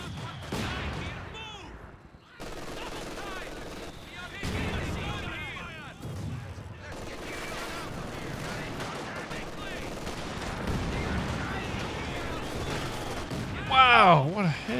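Repeated automatic gunfire from machine guns in a war video game, steady bursts and heavy thuds continuing throughout, with a loud burst near the end and a voice talking intermittently over it.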